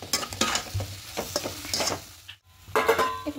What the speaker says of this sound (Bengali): এই সমস্ত কিছু একসঙ্গে মিশিয়ে নেব।